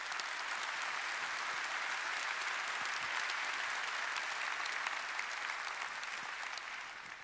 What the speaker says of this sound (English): I do think that it's worthy of these people and your round of applause